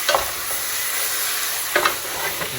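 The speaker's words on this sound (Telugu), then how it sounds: "ఆల్మోస్ట్ అయితే బ్రౌన్ అయిపోయింది ఆనియన్స్. చికెన్ వేసేసుకున్నాం, కలుపుకుంటే" Chicken fries with browned onions in a pan, a constant close sizzle broken by two brisk scraping stirs.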